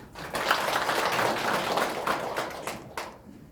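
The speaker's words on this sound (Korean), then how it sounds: "박수 한번 해주시죠." Audience applause at a public hearing on a city urban regeneration plan, a short burst of clapping in a room that swells, wavers and thins out into a few scattered claps.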